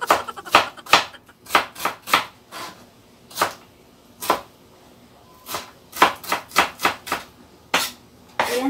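A knife chops an onion into small minced cubes on a board for a minced beef and tomato dish: close, crisp, irregular strikes in quick bursts with short pauses between, no talking.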